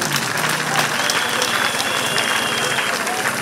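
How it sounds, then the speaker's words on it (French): Applause honouring the mothers at a women's gift-giving event in Gbofia, a dense, loud wash of crowd clapping with crowd noise mixed in, steady throughout. "Applaudissons pour nos mamans."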